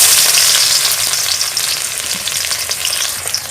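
Chopped onion sizzling in hot oil for a Tulu-style padengi bajil, a loud, dense frying hiss that holds steady for a few seconds with no voices.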